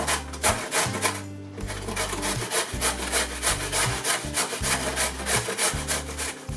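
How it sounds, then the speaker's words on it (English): Food being grated for a turkey curry, a rhythmic back-and-forth rasping with regular strokes, close and fairly loud, with a brief pause early on. "The grating it's going to make it easier to cook."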